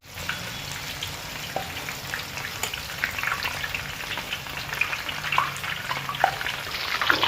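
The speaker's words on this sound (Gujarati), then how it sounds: "ગાંઠિયા તળવા માટે કડાઈમાં 3 કિલા જેવું તેલ પૂર્યું છે મેં" Tikha gathiya strands fry in about three kilos of hot oil in a kadai, making a loud, continuous crackling sizzle with scattered sharp pops throughout.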